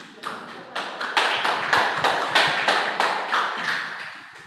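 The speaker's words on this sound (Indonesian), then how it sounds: "bisa kasih tepuk tangan?" A small audience at a church gathering claps in unison, a series of about a dozen sharp rhythmic claps at a steady beat, fairly close and clear with little talk.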